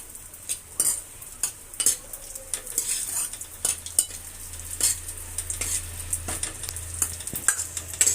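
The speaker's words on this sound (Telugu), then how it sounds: "నెక్స్ట్ కిస్మిస్ యాడ్ చేసుకొని ఫ్రై చేసుకోవాలి." Cashews and raisins frying in ghee in a pan, with a constant low sizzle and frequent sharp clicks and scrapes of a spoon against the metal, stirring in an irregular rhythm.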